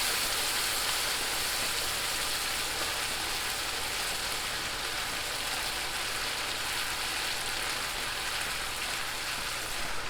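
Risotto in a pan with chicken stock added half a cup at a time, giving a steady, even sizzle and bubbling hiss that carries on alone throughout.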